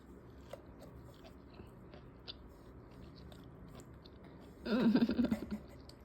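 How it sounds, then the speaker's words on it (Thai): A one-year-old baby chews sticky rice with fried pork, with soft quiet mouth and chewing sounds, then a louder, brief burst of noisy activity near the end. "เคี้ยวด้วยนะ"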